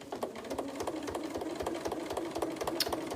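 Sewing machine stitching a trapunto cushion at a steady, moderate pace, producing a regular rapid rhythm of needle clicks over a constant motor hum, close and clear with no voices.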